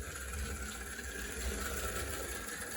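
An HO scale model locomotive runs backwards at low speed, its front drivers tending to lock up. Its small motor gives a steady, faint mechanical hum and whir with slight rhythmic flutter, heard alone.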